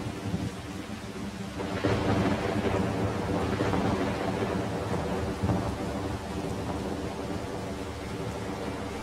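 Steady rain with rolling thunder in Farming Simulator 25, a dense continuous wash of downpour with low rumbles swelling around the middle, heard alone without voices.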